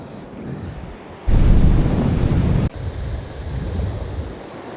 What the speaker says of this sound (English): That westerly wind's picking up a bit. It's getting a bit brisk.